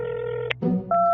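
A phone placed to hotel room 2401 produces a steady electronic tone, then a short click and a break, followed by a brighter ringing tone, close and clean with no voices.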